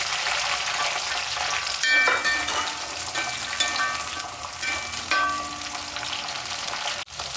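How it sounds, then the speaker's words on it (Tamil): Garlic and onion sauté in hot oil in a pan for a Chettinad okra tamarind curry, giving a steady, loud hiss with faint clinks from stirring. "பூண்டு போட்டுக்கலாம் நல்லா வதங்க வெங்காயத்தையும் போட்டுக்கலாம்"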